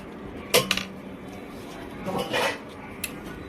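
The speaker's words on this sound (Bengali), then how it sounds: "এখন ভেজে রাখা আলুগুলো মাংসের মধ্যে দিয়ে দিচ্ছে" Utensils clink and scrape in a pot as fried potatoes are tipped into cooked meat, with a couple of sharp metallic knocks and a softer shuffling stretch, fairly quiet.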